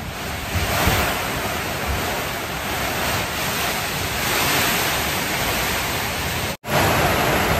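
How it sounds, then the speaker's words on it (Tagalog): Heavy rain driven by strong, storm-like wind makes a loud, steady roaring wash that runs without letup and cuts out for a moment near the end. "Grabe lakas ng ulan, lakas ng hangin. Parang siyang parang siyang bagyo"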